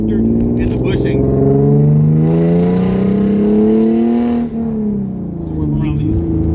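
A Hyundai Genesis Coupe fitted with a short throw shifter revs loudly and close by in a sustained rising and falling drone, with a dip near the end; a voice speaks over it and no distinct pops stand out.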